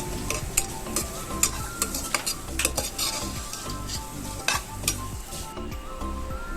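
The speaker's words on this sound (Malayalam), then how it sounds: "അതിനുശേഷം നന്നായിട്ട് ഇളക്കി കൊടുത്ത് അതൊന്ന് മിക്സ് ചെയ്ത് എടുക്കുക." A grated coconut mixture being stirred in a frying pan for a drumstick-leaf egg stir-fry, low steady sizzling under repeated scraping and clinking of a spoon against the pan.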